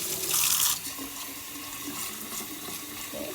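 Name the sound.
cool water running into a jar of sprouting seeds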